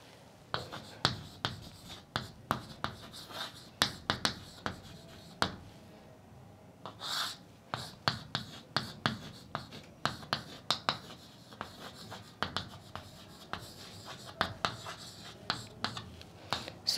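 Chalk or marker strokes scratching and tapping on a board during a math lecture on rotation of axes, a long run of quick, faint, irregular strokes with brief pauses.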